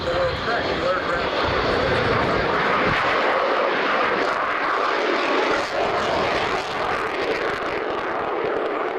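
Navy tactical jet flies overhead at a 1995 warbirds airshow, a broad continuous engine roar that rises and fades slightly while an announcer talks over it on the public address.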